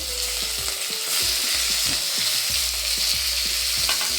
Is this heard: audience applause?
no